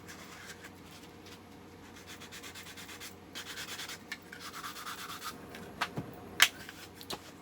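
Sanding SharkTac gun parts by hand, a soft rubbing scrape in repeated strokes that grows louder midway, close and steady, with a few sharp knocks and clicks near the end.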